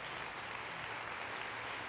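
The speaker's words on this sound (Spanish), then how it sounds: "Dele un aplauso al Señor." A church congregation claps briefly for the Lord during a Spanish-language sermon, a faint, steady patter of many hands heard from a distance.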